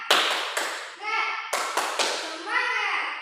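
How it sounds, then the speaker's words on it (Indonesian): Rhythmic bursts of classroom "tepuk semangat" clapping, sharp group claps in a short patterned sequence, alternating with children's voices chanting in unison between the claps. "Tepuk semangat."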